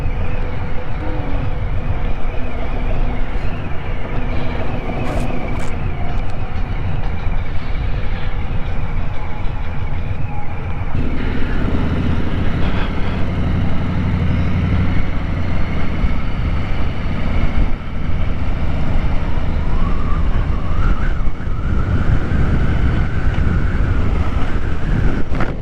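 A Harley-Davidson Street Bob 114 motorcycle is ridden on the road, its steady engine drone blended with heavy, constant wind rush for the whole stretch.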